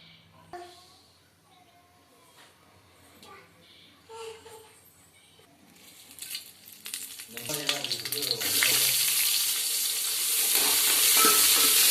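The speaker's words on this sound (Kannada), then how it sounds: "ಎರಡು ನಿಮಿಷ ನೀಟಾಗಿ ಫ್ರೈ ಮಾಡ್ಕೊಳ್ಳಿ" Vegetables such as onion, tomato, curry leaves, potato and brinjal frying in a pan, the sizzle building from quiet stirring and clinks into a loud, steady hiss over the second half, with a voice briefly audible early on.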